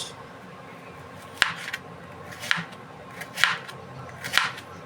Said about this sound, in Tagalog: hiwain ko na itong carrots. Hiwain ko na ng maninipis.